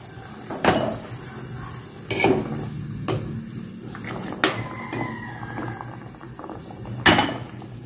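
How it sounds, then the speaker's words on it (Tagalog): A pot of broth with pompano fish at a rolling boil, steady bubbling broken by several sharp clinks and knocks of a utensil against the pot, close and alone without voices. "Kumukulo na siya guys."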